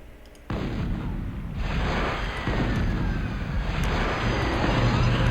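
Continuous video game combat noise, a loud rumbling bed of gunfire and explosions that swells after a brief quiet start and carries steadily to the end.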